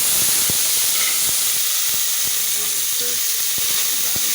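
Onion and garlic sauté in hot oil, making a constant close hiss and sizzle with scattered crackles and pops throughout, no voices over it.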